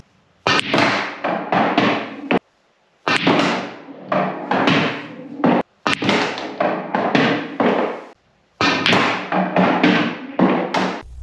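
Pool balls struck with a cue on topspin shots, a series of sharp close clicks and clacks in quick rhythmic clusters, separated by brief pauses, with no voices.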